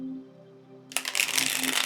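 After a faint hum, tarot cards riffle and shuffle close up in a quick, papery flurry that continues to the end.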